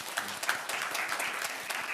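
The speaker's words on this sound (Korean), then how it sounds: "전도팀 위에서 격려의 박수 한번 해주세요." Church congregation applauding the evangelism team at a Sunday service, a dense patter of many hands clapping together at moderate volume with no voices over it.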